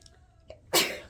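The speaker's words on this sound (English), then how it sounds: "I'm going to sneeze." A single sharp sneeze close by, preceded by a faint quick intake of breath.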